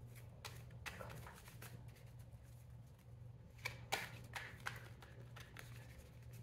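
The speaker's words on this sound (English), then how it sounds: "these cards won't stop flipping" Tarot cards being shuffled and flipped by hand, a faint, close run of soft riffling clicks and snaps in bursts over a low steady hum, with no talking.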